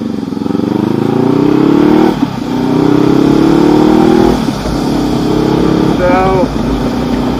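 A 2019 Honda CB500X motorcycle engine drones while riding in summer, loud and close with rising and falling pitch as the rider works through the gears, wind rumble underneath and a voice talking over it.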